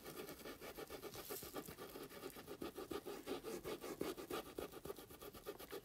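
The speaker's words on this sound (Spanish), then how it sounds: "Que se oiga que ese pincelito está tallando la tela." A small paintbrush scrubs green metallic paint into fabric with quick, steady back-and-forth strokes, a close, dry rubbing texture that runs continuously with no talking.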